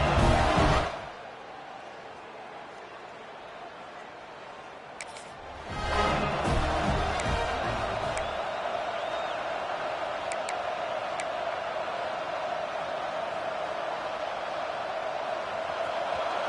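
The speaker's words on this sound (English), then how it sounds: "This crowd going to try to make life miserable for these guys." Stadium crowd noise in EA Sports College Football 26, Oregon at USC, a steady broad roar that swells after a brief lull and holds loud and continuous to the end.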